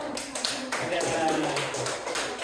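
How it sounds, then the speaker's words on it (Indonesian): A class group in a classroom claps together in a dense burst of applause, steady throughout, with voices mixed in underneath. "Tepuk tangan dong."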